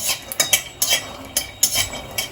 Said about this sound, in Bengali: এটাও আমি একটু এরকমভাবে নাড়াচাড়া করে নেব।